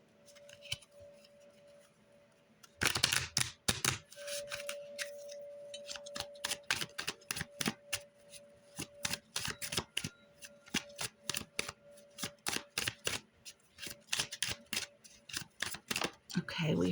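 Angelarium oracle cards are shuffled and pulled in a rapid run of crisp riffling snaps after an initial burst, with a faint steady tone underneath and no talking.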